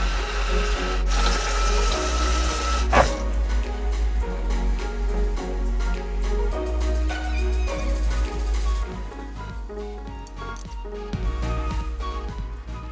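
Tap water pours steadily into a bowl of blueberries being washed in a kitchen sink, a continuous splashing stream that shifts in tone as the fruit is stirred, with no talk.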